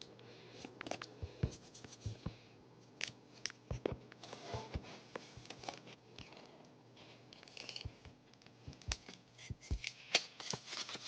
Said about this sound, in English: Now I'm gonna cut down all of these mini pieces of foam.